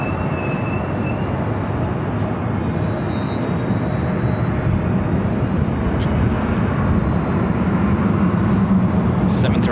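A Boeing 737-800 airliner at LAX makes a loud, steady jet roar that stays even for the whole stretch, with a voice talking faintly over it.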